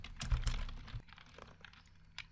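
Quick keystrokes on a computer keyboard while a command is typed, a short burst of close clicks that thins out into a few scattered taps.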